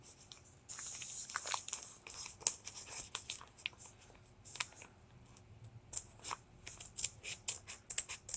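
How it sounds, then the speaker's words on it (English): Scissors cutting a square of self-stick felt, a series of close, crisp snips and crunchy cuts in irregular bursts with short pauses between, over quiet background and no talking. "what I'm going to do is cut my little felt square."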